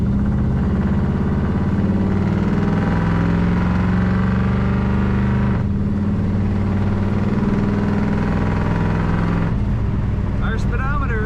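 A loud 1969 Chevrolet El Camino runs steadily close by, its exhaust giving a deep, continuous rumble with a brief dip partway through.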